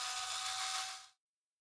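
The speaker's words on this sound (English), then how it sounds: "I'm going to use a drill bit of a smaller diameter as a milling cutter here." A small drill bit used as a milling cutter grinds steadily into a plastic USB connector at close range, a continuous high whirring rasp that stops abruptly.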